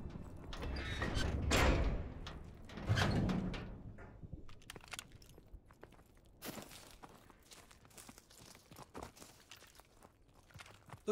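A door being opened in the Call of Duty WWII video game, with a loud creaking, scraping swing followed by a second heavy push, then quieter footsteps and light thuds, with no talk.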